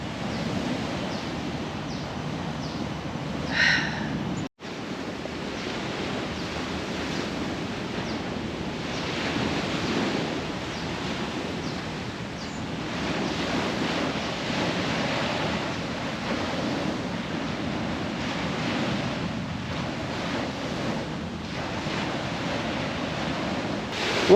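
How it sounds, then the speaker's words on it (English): Ocean waves wash steadily onto the shore at a seaside park in Singapore, a continuous broad surf roar mixed with light wind, with no voices. "I am just sat here listening to the waves."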